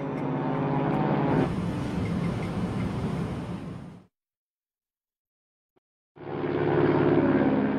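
A Boeing 727 airliner's engines roar loud and steady, then cut off abruptly into silence before the jet roar returns just as strongly, with no voices.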